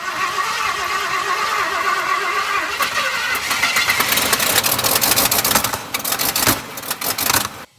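Abandoned 1974 Ford F250 V8 engine cranking over with rapid rhythmic starter chugging, then catching and sputtering roughly as it tries to run, loud and close.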